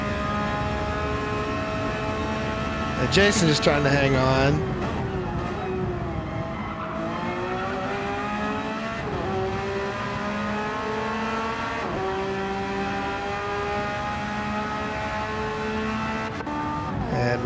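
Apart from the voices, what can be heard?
race car tires squealing in cornering, racing video game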